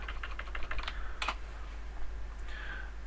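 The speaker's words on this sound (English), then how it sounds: "if I type in a lot of B's" Quick bursts of clicky keystrokes on a computer keyboard as a string of repeated letters is entered, close and fairly quiet over a steady background hum, with no voices.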